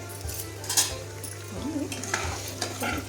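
Tomatoes sizzle and fry in a pan while a spoon stirs and scrapes with repeated soft clinks, close and moderately loud, with a brief voice murmuring underneath.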